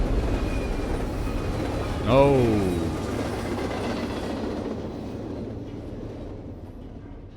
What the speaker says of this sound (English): I guess that was the train that killed his wife.